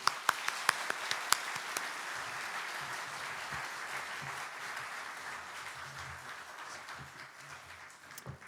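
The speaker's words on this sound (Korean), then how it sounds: "따뜻한 사랑과 격려의 박수로 우리 함께 맞이하겠습니다" A church congregation at a Sunday worship service applauds to welcome a visiting pastor, a few sharp claps at first swelling into steady, full room-wide applause that carries on evenly to the end.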